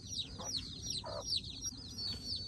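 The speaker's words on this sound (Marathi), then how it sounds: "ती एकदम प्रॉपर एकदम गावरान कोंबडी आहेत" Native desi country chickens and chicks on a village poultry farm clucking and peeping in short repeated calls, close by, over steady low background rumble.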